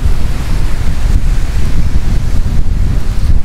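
Ocean waves roll in at a beach under strong wind, a loud, continuous low roar with heavy wind buffeting on the microphone throughout.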